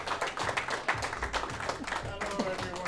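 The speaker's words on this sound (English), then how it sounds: "please give me a warm welcome, round of applause to Mr." Audience applause greets a guest speaker at a real estate seminar, a steady wash of clapping from a sizeable crowd with a few voices talking over it throughout.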